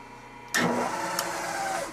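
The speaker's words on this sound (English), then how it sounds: "So we're using a 1 inch end mill. We're just gonna make a relief going down" A milling machine powers up to cut a relief with a one-inch end mill, a sudden motor whir and steady mechanical hum with a brief click midway, loud and close.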